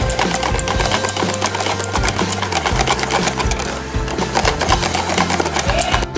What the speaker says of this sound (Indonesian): putih telur sama gula putih di mixer sampai kaku ya